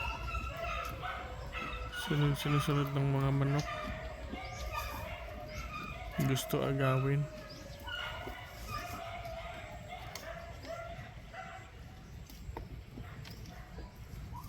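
A farm dog barks in two short bursts of several barks each, close by, while a person talks over outdoor background noise.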